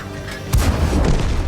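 A single heavy tank cannon blast from the M10 RBFM in a video game booms out, followed by a low rumbling roar that lingers in the game's gunfire-like soundscape.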